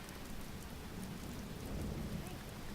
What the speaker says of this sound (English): The rain is heavier in density. Look how it's reacting to the surface.